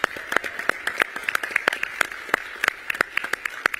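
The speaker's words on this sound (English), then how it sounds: "let's give a big round of applause to Brett" An audience at the Turning Point Action Restoring National Confidence Summit gives a round of applause, steady sharp clapping from many hands, fairly near and continuous throughout.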